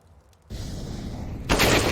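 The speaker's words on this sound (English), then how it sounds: "Quick headshot from Fry." Gunfire from Counter-Strike: Global Offensive during a competitive esports match, a headshot, heard as a sudden loud burst of shots that rises again into a louder blast near the end.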